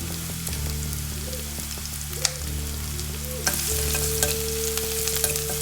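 Green chilli and garlic sizzle and fry in hot oil for a rasam, a steady loud crackle with stirring scrapes and a burst of hissing as more goes into the pan.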